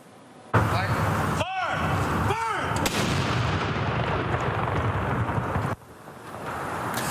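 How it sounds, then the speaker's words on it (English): Blank artillery rounds boom in a Remembrance Day 21-gun salute on the Alberta Legislature grounds in Edmonton: two loud outdoor blasts several seconds apart, each followed by long rumbling echo, with steady wind noise throughout. "People from all walks of life filled the legislature grounds to take in the ceremonial firing of blank artillery rounds"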